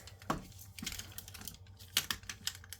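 Ratcheting joints of a Pose Plus Baxinger action figure being posed, a quiet close series of irregular small clicks and snaps.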